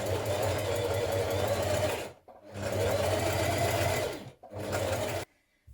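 A home sewing machine with a twin needle top stitches knit dress fabric from the right side, running in three steady, loud bursts separated by brief pauses, with no talking.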